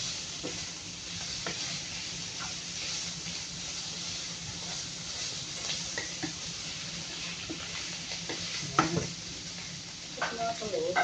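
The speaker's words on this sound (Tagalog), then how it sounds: "I-mix na natin ang ating turkey." Turkey stir-fried in a pan for pancit canton, a continuous close sizzle broken by repeated scraping stirs and utensil clicks, loudest toward the end.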